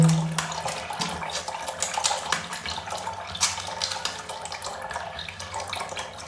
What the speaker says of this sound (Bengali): এই দেখো ফেস ওয়াশ দিয়ে মুখ ধুয়ে সুন্দর করে